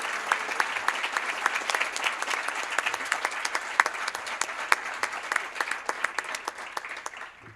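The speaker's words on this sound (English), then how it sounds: "give you a big old round of applause for your dedication" Audience at a student production awards ceremony gives a round of applause, many hands clapping with distinct sharp claps standing out over a steady wash, fading away in the last moment.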